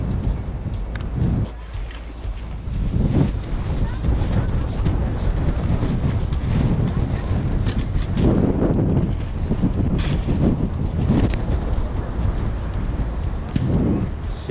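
Wind gusts near Skogafoss waterfall in Iceland, buffeting the microphone in loud rumbling bursts over a constant waterfall-like hiss, with people talking now and then.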